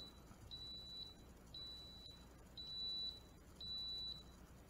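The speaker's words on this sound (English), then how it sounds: "so that was the tone that says that the coffee is done" A Cuisinart metal thermal programmable coffee maker signals that brewing is done with four clear, high electronic beeps, evenly spaced about a second apart, each held for around half a second over a quiet room background.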